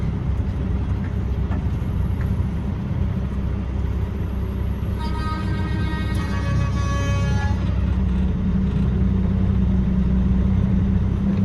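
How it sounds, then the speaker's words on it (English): Car horns blare in a sustained honk for a few seconds over a loud, steady rumble of idling engines and road traffic. "They're honking their horns at me."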